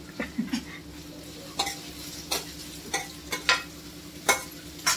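Onions and a bay leaf frying in a pan while being stirred, a steady sizzle broken by regular scraping strokes of a spoon against the pan, close and fairly quiet, with no voices.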